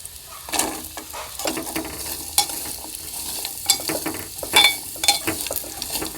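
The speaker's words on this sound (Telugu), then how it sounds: "ఇప్పుడు కొబ్బరి ముక్కల్ని వేయించుకోవాలి." Coconut pieces fry in a pan with a soft sizzle, broken by repeated scraping stirs and sharp clinks of a utensil against the metal, with no talking.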